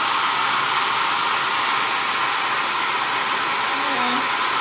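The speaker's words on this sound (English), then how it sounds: "I like to get it dry quite a bit before I push the diffuser into my hair." Hair dryer fitted with a diffuser blowing on curly hair, a loud constant rushing whoosh of air that runs steadily throughout with no one talking.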